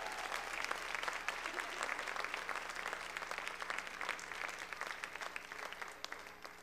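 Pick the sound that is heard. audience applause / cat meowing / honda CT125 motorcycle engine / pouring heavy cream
audience applause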